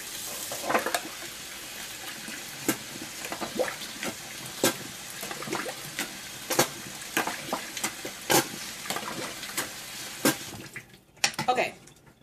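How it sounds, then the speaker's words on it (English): Tap water runs and splashes as a turkey baster is rinsed in a sink, with repeated squirts and gurgles over a steady flow and a clatter at the end. "I'm going to rinse out my turkey baster."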